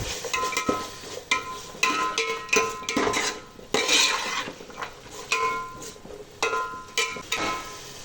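A spoon scrapes and clinks against a metal pan in repeated irregular strokes, stirring carrot rice close up.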